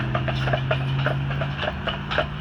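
Hooves of Percheron draft horses pulling a ride around Stanley Park in Vancouver clip-clop in a steady, close rhythm over a low engine-like hum, with no talking.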